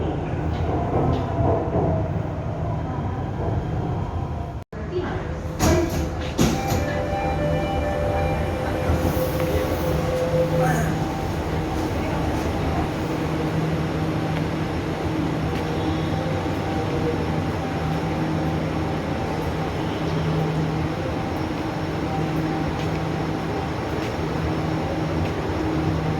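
Jakarta MRT underground train riding between stations, a steady loud rumble of wheels and motor with a sharp brief dropout near five seconds, then continuous hum and rattle throughout, no voices.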